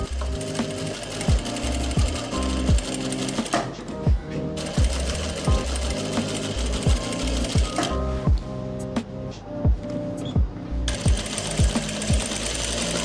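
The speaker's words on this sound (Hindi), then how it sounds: "बस दोनों तरफ आपने ऐसे सिलाई लगानी है यहाँ से।" A sewing machine runs close and loud, stitching a pocket onto palazzo trousers in quick bursts of rapid rhythmic clatter separated by brief pauses.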